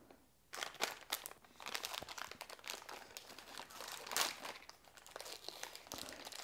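White Rabbit ice cream packaging is torn open and crinkled by hand, a close, quiet run of sharp plastic crackles and rustles with irregular bursts and no speech.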